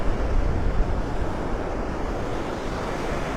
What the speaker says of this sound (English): That's the sandbar out there that the waves are breaking over.